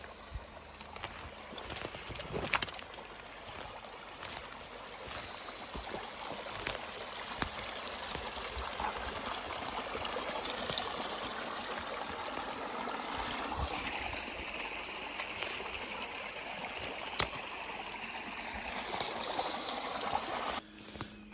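A small stream flows near a woodland trail off Old Range Road in Sanbornton, New Hampshire, giving a steady close trickle and burble with occasional splashes and knocks, and no talk over it.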